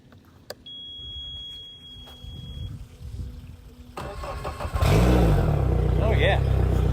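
Outboard boat motor cranking and catching after a fuel line replacement, then running loudly close by, preceded by a stretch of quieter handling noise and voices.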